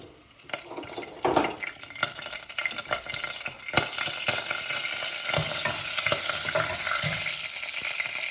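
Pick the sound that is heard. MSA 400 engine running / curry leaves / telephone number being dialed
curry leaves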